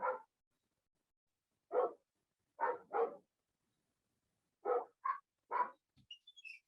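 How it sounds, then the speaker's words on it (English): Several dogs at a home bark in short separate bursts, one or two at a time, faint and off in the background, with a few small yips near the end. "I am sure that you are hearing my dogs in the background."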